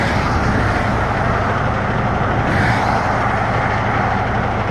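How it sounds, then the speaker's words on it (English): Truck engine running nearby, a steady broadband rumble and hiss that stays constant and loud for the whole stretch with no voices. "We got that truck noise in the background,"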